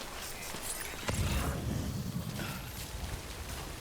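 Steady rain pours across a stretch of open landscape in the video game Death Stranding, a dense hiss that swells briefly with a low rumble, with no voices over it.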